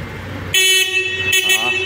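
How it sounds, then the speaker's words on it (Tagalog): A Kymco Dink R 150 scooter horn honks loudly twice in quick succession, a bright nasal beep close by, with engine idle underneath. "Solid ang busina po, ang lakas"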